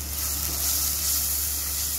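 Ginger and garlic frying in a pan for moong dal, a steady, close, even sizzle with a bright hiss that holds without pause, and no voices.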